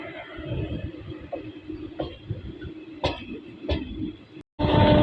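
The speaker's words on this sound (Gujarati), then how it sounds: "ટ્રેન નીકળી ગઈ છે સિંધાવદરથી પણ।" The Rajkot to Morbi Parikrama special train runs on after leaving Sindhavadar halt: a continuous onboard rumble with several sharp rail-joint clacks, briefly cutting out before the running noise returns louder.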